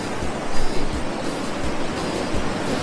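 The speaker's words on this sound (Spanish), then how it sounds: "Pero lo más impresionante, sin duda, es este, el río." A river flows through a cave in Ecuador, making a steady, loud, broad rushing roar of water with soft surges, heard close and without talk.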